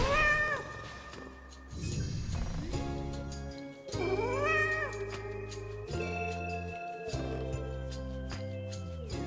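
A cat character in the video game Hades 2 gives a run of clear, close meows, several in succession with short gaps, sounding alone with game music tones beneath.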